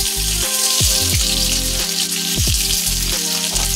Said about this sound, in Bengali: এবারে তেল গরম হয়ে গেছে, এবারে পেঁয়াজটা দিয়ে দেবো।